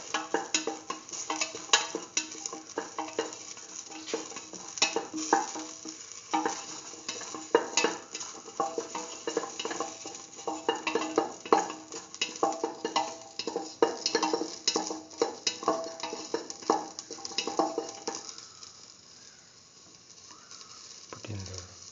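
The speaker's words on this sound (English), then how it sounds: "Keep on sauteing." Food is sautéed in a hot pan for a split mung bean and eggplant dish, with steady sizzling broken by frequent clattering stirs and utensil scrapes that trail off into quieter frying at the end.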